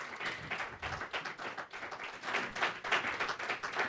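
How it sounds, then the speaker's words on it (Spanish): Congregation applauding in gratitude to God during a church service: sustained, dense clapping from many hands that rises and falls in waves for the full stretch, with no clear speech. "aplauso de gratitud a Dios"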